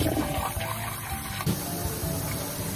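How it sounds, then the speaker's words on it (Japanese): Shelled green peas rinsed under running tap water in a kitchen sink, a steady close rush of water with slight splashing throughout. "鞘から取り出したグリーンピースをさっと洗います。"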